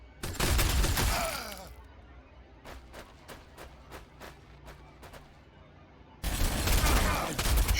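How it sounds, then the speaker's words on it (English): Loud roaring gunfire volleys in Warhammer 40,000: Sanctus Reach, with a heavy burst at the start, then a string of sharp evenly spaced single shots, then another loud barrage. "Shooting through his own people."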